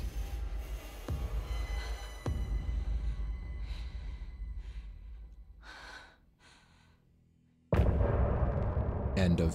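Gunfire in the video game Alan Wake 2: a few loud, sharp shots spaced several seconds apart over a dark, rumbling game ambience, with a brief quiet stretch before a final heavy blast.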